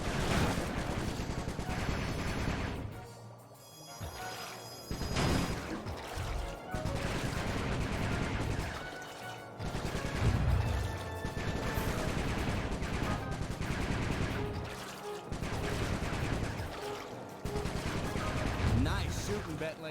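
Gunfire in the Sly Cooper game An Opera of Fear: dense bursts of rapid shots and crashing impacts over twenty seconds, loud and close, with short pauses between volleys and game voices speaking at times.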